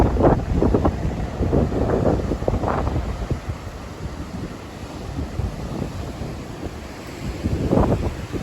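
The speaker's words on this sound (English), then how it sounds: "The waves are just going right over the pier." Wind buffets the microphone as ocean waves surge and crash over a pier at Madeira, with louder swells breaking near the start and again at the end.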